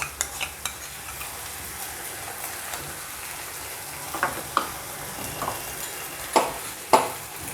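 Veg Schezwan mixture with chili sauce, tomato ketchup and Schezwan sauce stirred in a pan, a constant soft sizzle broken by repeated spatula scrapes and knocks, with a cluster of strokes toward the end.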